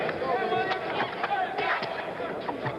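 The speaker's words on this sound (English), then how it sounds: "The crowd now cheering because the heavyweights are mixing." A boxing crowd roars steadily through a heavyweight bout between Earnie Shavers and Roy Williams, a dense, continuous wall of cheering with scattered sharper shouts rising above it.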